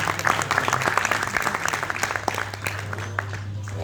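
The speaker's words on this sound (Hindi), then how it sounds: "मैं चाहता हूँ एक बार जोरदार तालियां" Audience applause at a mushaira poetry gathering in Meerut, a steady wash of many hands clapping close by for several seconds over a low constant hum.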